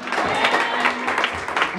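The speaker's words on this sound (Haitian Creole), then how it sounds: "Applaudissez, applaudissez, applaudissez" A church congregation applauding during a service, a steady dense patter of clapping hands mixed with voices, loud and close throughout.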